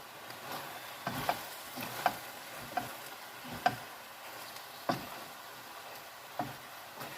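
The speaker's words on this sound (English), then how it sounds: "So onions and mushrooms are going in there now," Onions and mushrooms cooking in a pan for beef stroganoff, a quiet low sizzle broken by irregular wooden-sounding taps and scrapes of a stirring utensil every second or so.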